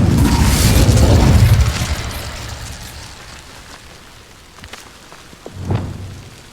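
A loud burst of the Incendio fire spell setting dry vines alight in Hogwarts Legacy, a heavy whooshing roar that fades into a low crackle, with a smaller flare near the end.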